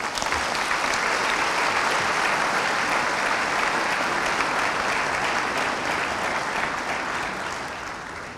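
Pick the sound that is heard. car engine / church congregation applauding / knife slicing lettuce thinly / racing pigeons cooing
church congregation applauding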